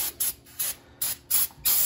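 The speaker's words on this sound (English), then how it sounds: "So you need brake cleaner, and just go ahead and just saturate it." Brake cleaner sprayed from an aerosol can onto the brake parts of a Ford F-250/F-350 pickup: five short, loud hissing bursts with brief pauses between them, close by, and no talking.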